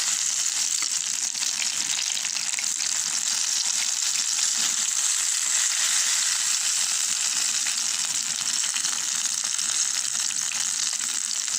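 Steady, loud sizzling of food frying in hot oil, a continuous bright crackle with no talking.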